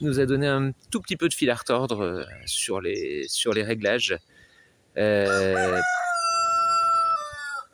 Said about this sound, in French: Il y a le coq qui chante à côté.